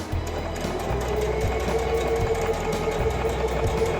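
A Singer sewing machine runs steadily with a fast mechanical whir and rhythmic chatter, pausing briefly and changing pace as it stitches forward and back.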